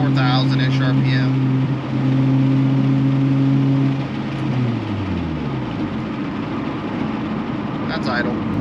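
A 2003 Pontiac Vibe GT engine held at around 4,000 RPM gives a steady droning tone, then drops back toward idle. It is heard from the cabin with road rumble underneath.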